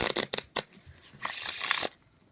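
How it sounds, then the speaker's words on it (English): A deck of playing cards is riffled in quick bursts, then a longer cascading shuffle of crisp flutter, close up with no talking. "They shuffle really, really well."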